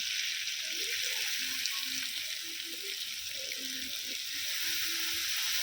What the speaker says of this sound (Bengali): আলুটাও আমি খুব ভালো করে কষিয়ে নিয়েছি এবারে দিয়ে দেবো জল